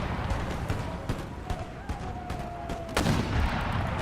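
Canister shot artillery in the Empire: Total War strategy game: a continuous crackle of volleys and booms, with one sharp, heavier blast near the end, all at fairly close range.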